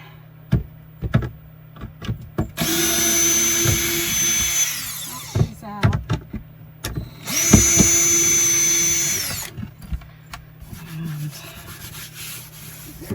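A power drill backs out two screws inside an RV, running in two sustained whirring bursts of a few seconds each, with clicks, clatter and brief speech around them.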